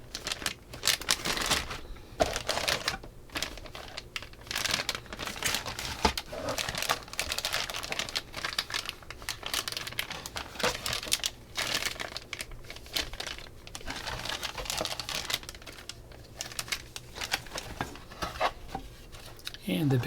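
Plastic bags of parts from a 1:35 Spinosaurus scale model kit crinkle and rustle close by in continuous, busy bursts of handling, with no clear talk over them.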